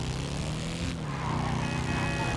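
A wrapped bobber motorcycle in GTA 5 runs with a steady, droning engine and exhaust note that holds at an even level throughout the short stretch.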